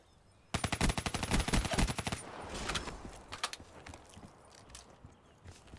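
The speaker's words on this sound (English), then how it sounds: "There's an assault rifle?" Rapid assault rifle fire in a video game: a dense burst of loud, close shots for about a second and a half, followed by scattered fainter shots and impacts.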